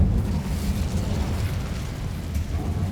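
The Incendio fire spell cast in Hogwarts Legacy erupts in a loud, sustained, roaring burst of flame that rumbles steadily for a few seconds, with no voices over it.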